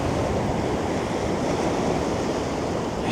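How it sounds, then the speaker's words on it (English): Sea waves wash steadily onto the shore at Cleveleys, a loud, unbroken roar of surf with wind buffeting the microphone. "just walking along here, just listening to the sea and the waves"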